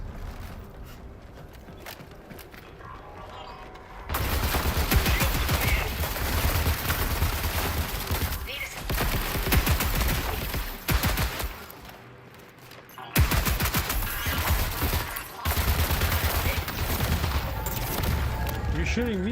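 Sustained bursts of rapid gunfire fill a Marathon firefight, loud and dense, with a brief lull before the shooting resumes; voices talk over parts of it.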